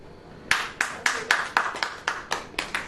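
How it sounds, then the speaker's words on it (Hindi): A congregation clapping hands in unison at a church gathering: about ten sharp, evenly spaced claps in a steady rhythm, close and clear, with no talk over them. "ताली बजाओ।"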